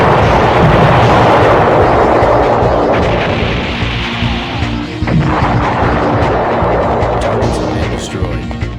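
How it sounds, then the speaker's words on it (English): Bombs blowing up in the 1999 video game Silent Bomber, a dense run of loud, overlapping fiery blasts and booms with rumbling low end, continuous over the whole stretch with brief dips between bursts. "whenever I can blow stuff up in a fiery, over-the-top explosion"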